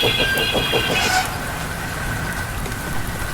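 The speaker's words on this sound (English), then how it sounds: "I'm sure a little bit of rain isn't gonna cause any harm" Steady rain patters and hisses continuously, with a faint engine-like tone and brief whine early on.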